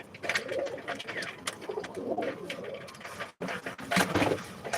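Pigeons in a Bangladeshi loft of Rajshahi giribaz tumbler birds coo repeatedly at close range, with soft rolling calls and wing and feed rustle around them.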